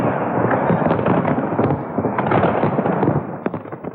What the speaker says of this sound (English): In hours, fireworks will ring in 2003